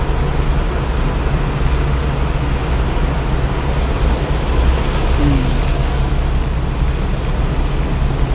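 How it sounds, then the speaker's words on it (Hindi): Steady, dense rain drumming on a car roof and windshield during driving, a loud continuous wash of noise with a low engine rumble underneath. "ये कहाँ से आई बारिश हमारे इसके ऊपर?"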